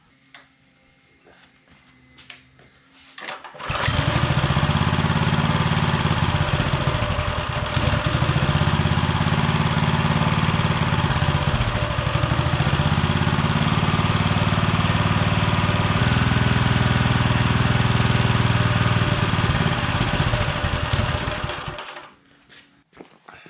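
A small minibike engine, long seized and sitting for years, starts after fueling and runs steadily at a fast idle for about eighteen seconds, loud and close with no talking, then cuts off.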